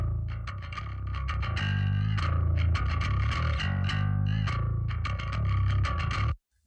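A heavily distorted bass guitar played through the TH3 amp model with the master knob fully up, gritty and saturated, picking a run of notes steadily before stopping abruptly near the end, no talking.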